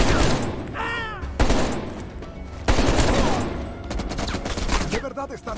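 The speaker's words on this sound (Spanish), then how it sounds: "Acaba con esa ametralladora pesada." Heavy machine gun fire in Call of Duty Cold War, loud sustained bursts of rapid gunshots close up, broken by brief pauses and mixed with other game battle noise.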